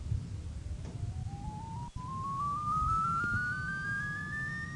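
Test tone from a phone app sweeping upward to a steady high pitch, thin and piercing, playing alone over faint room noise in a classroom.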